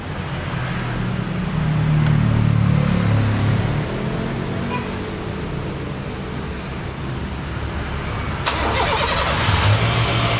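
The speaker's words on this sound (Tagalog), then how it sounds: "Sound check sa makina." A Honda City engine cold-starts after maintenance and settles into a loud, steady, close-up idle with a brief rise in revs. A short higher-pitched whine appears toward the end.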